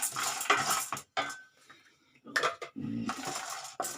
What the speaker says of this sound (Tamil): இப்போ முந்திரியும் பதாமும் கொஞ்சம் வறுப்படுத்துங்க